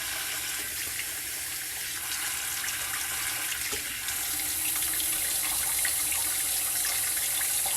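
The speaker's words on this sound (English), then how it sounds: "There's super hot water running out of here." Super hot water gushing from a sink tap, a loud, steady hiss of running water that brightens slightly partway through and continues unbroken, with no voices.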